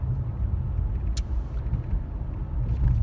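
A dream car, not a V8, drives close by with a steady low engine rumble and road noise, plus a brief sharp hiss partway through. No one speaks.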